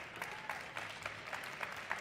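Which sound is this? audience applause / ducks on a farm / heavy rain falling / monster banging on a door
audience applause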